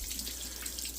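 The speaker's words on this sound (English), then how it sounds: "I'll dump a little bit of water through them" Water poured over draining cured olives makes a steady, close rush and splash that runs without a break, with no voices.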